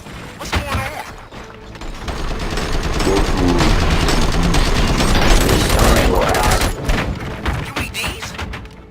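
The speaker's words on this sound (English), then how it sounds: "Gunshots? What's going on?" Sustained rapid gunshots and heavy thuds in the video game RoboCop pile into a loud, dense barrage that swells through the middle and eases toward the end.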